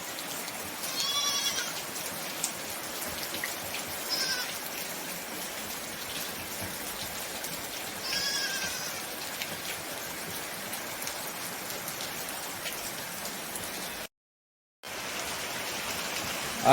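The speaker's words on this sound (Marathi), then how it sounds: "आज चांगलं पावसाने आगमन केलंय मस्त पैकी असं" Steady heavy monsoon rain pours down for the whole stretch as a dense, even hiss, with a few faint bleats from goats or sheep sheltering nearby.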